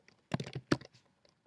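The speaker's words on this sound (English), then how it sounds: "if I start typing" Fingers tap out a short burst of keystrokes on a computer keyboard, a quick run of close, crisp clicks followed by a few scattered faint taps in a quiet room.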